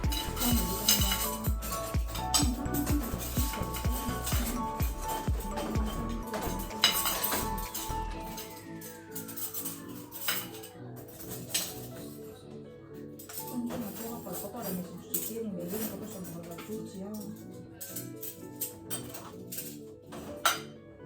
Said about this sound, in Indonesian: saya dan adik lagi pindah piring dari mesin cuci piring ke tempat furnitur